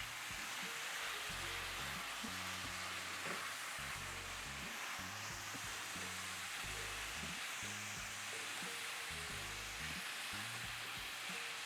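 Ground beef searing in a hot pan for a sweet potato burrito bowl, giving a steady, close sizzle and hiss with soft, irregular low thumps running underneath.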